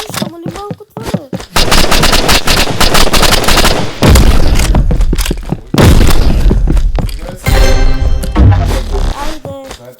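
Rapid, loud gunfire from a shotgun in a video game, with dense bursts of shots and booming blasts that fill nearly the whole stretch, briefly pausing around the fourth and sixth seconds.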